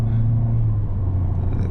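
Peugeot 508 GT engine in sport mode heard from inside the cabin, a low, steady, muffled rumble that stays even throughout with no other sounds.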